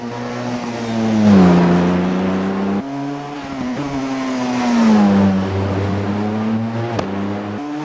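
A Porsche 919 race car with a V4 engine in the Assetto Corsa racing game climbs through the revs twice, with a sharp drop at each gear change. The loud, close engine tone holds steady between shifts, with no talk.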